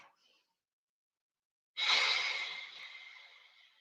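One deep breath during a leg stretch, a long airy exhale close to the microphone that fades out slowly after a short silence, with no talking.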